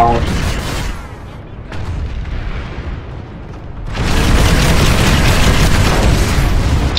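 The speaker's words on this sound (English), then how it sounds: "Did anti-vehicle phalanx start shooting at us?" In an online shooter game, an anti-vehicle phalanx turret fires as heavy booming bursts. A softer stretch gives way to a loud sustained barrage, with players' voices mixed in.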